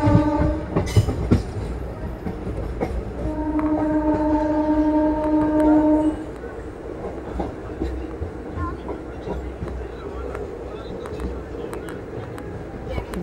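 Narasapur - Nagarsol Express 17231 running through Uppuluru station, loud steady rumble and rail clatter with a sustained horn blast in the middle, a voice speaking over the train noise.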